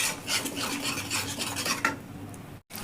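A spoon scrapes and rasps through cashew-poppy seed paste in a cooking pan over low heat, giving a close, rhythmic rubbing with a few sharper strokes, then a brief knock near the end.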